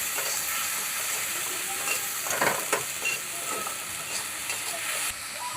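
Onions fried until browned, with ginger-garlic paste just added, sizzle steadily in a pan, with stirring scrapes and bursts of crackle midway; no talking.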